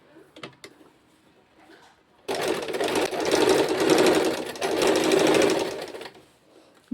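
A sewing machine runs at close range in one steady burst of about four seconds, stitching a zigzag picot edge on fabric. Soft handling clicks come before it.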